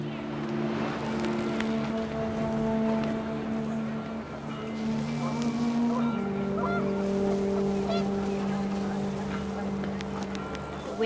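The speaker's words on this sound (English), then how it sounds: "The wind picked up and panicked geese appeared and quickly went." Panicked geese honk in a burst of overlapping, tonal calls over steady wind in the video game What Remains of Edith Finch, with a low droning hum underneath throughout.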